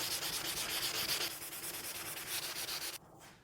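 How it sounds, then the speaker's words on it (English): A silver-leaf laundry basket is sanded by hand in steady back-and-forth strokes, close and harsh, with no voices, until the rubbing stops near the end. "I'm not going to sand more"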